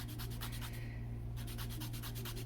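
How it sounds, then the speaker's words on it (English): Colored pencil being sanded to a point with quick, rhythmic rubbing strokes, a short pause partway through, over a steady low hum. "sanding it to a point, though, because you want there to be a point on it"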